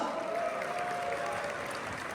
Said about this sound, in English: Can I have a huge applause?